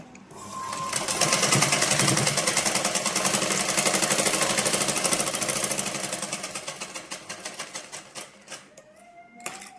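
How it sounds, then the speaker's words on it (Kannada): A tailoring sewing machine stitches the shoulder seams of a blouse, a rapid rhythmic clatter that swells loud, holds, then slows into separate ticks as the machine winds down near the end. "ಇಲ್ಲಿ ಭುಜ ಎರಡು ಜಾಯಿಂಟ್ ಮಾಡ್ಕೊಂಡು ಎರಡು ಹೊಲಿಗೆ ಹಾಕ್ಬೇಕು ನೋಡಿ"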